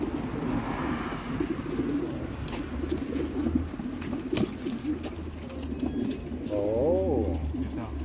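Racing pigeons coo softly at a young bird race loft, with low murmuring calls running through the background and one clearer coo near the end, under nearby people talking.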